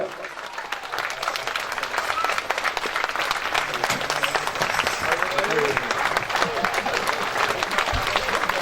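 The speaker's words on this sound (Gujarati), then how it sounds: "બધા જ ભાઈઓ તાળીઓ વગાડો જોરદાર" A crowd of men at a Shrimad Bhagavad Katha religious gathering applauds loudly in a dense, continuous patter for several seconds, with some voices mixed in.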